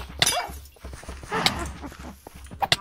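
A pet wolf whimpers in Minecraft: short, high whines and yelps against clicks and in-game clatter, with a louder cry near the end.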